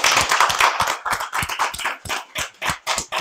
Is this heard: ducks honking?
no